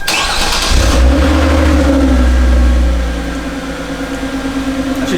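A 3.8 Hyundai Genesis coupe with a Solo Performance aftermarket exhaust starts up with a loud, deep burst of revving. The engine then settles into a rumbling idle with a throbbing exhaust pulse, and no one speaks.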